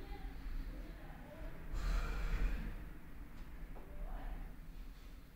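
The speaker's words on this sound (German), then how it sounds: "Koppelt das wieder mit eurer Atmung. Einatmen, ausatmen." Deep breathing during an office-break stretching exercise: one long, audible breath stands out near the start, then softer breaths follow over a low, steady background rumble.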